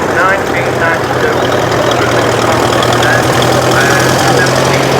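A Massey Ferguson tractor engine runs loud and close at a tractor show at Newby Hall, Ripon, a steady rumbling idle with knocking texture throughout, partly under talk.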